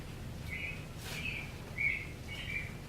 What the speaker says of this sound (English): That's a house sparrow.